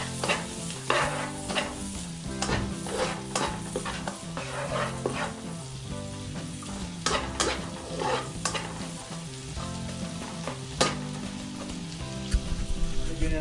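Onions sautéing in a pan for sweet Jollibee-style spaghetti sauce, a close sizzle with repeated scraping strokes of a spoon stirring in an uneven rhythm, moderately loud and without talk.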